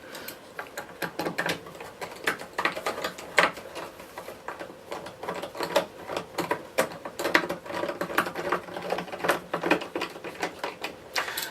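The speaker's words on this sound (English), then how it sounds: "Now we can put some of these screws back in, so I'll put the first one back in the top there." Screws being driven back into the cover of a Dyson DC03 vacuum cleaner during a motor and clutch replacement, a close, busy run of small clicks, ticks and scraping taps that continues throughout without talk.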